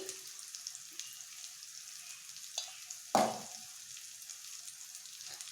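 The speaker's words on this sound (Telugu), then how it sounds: "తగినంత ఉప్పు వేసి బాగా ఫ్రై చేసుకోవాలి" Egg masala frying with chili powder and coriander powder in a pan, giving a soft steady sizzle with a couple of brief stirring clatters, one sharper scrape near the middle.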